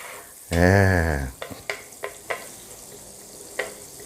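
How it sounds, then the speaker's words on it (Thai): Garlic fried rice stir-fried in a pan over low heat: a loud, brief tonal squeal of a scrape, then several short, sharp spatula taps spaced out over a faint sizzle. "คั่วต่อคั่วให้เป็นเหลืองสักหน่อย"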